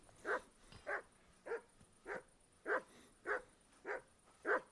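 A dog barks in a medieval open-world game, eight evenly spaced single barks at moderate distance, faint and steady in rhythm.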